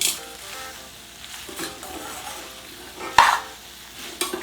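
Paneer fried rice stir-fried in a pan, with steady soft sizzling under repeated scraping and mixing strokes and a sharp utensil clank near the end.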